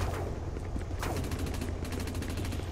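Bolt pistol gunfire in the Dust 514 video game, a volley of sharp repeated shots with rapid bursts in the middle and toward the end, over steady battlefield background noise.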